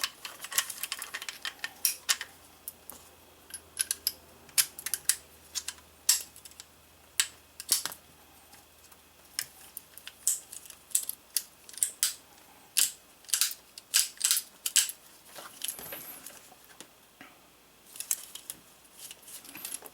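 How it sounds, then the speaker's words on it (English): Metal parts of an M1895 Nagant revolver click and tick sharply as the cylinder pin goes back in during reassembly, a close series of irregular small metallic snaps over a quiet background. "Pull it out, rotate it over just enough to where you can get your barrel pin or your cylinder pins back in"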